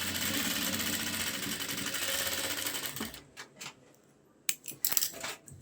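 A sewing machine runs steadily while stitching a lace edge onto a shalwar leg hem, then stops after about three seconds, leaving a few sharp clicks and taps nearby.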